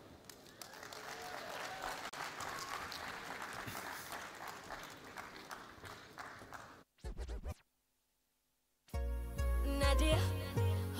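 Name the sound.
audience applause welcoming performer on stage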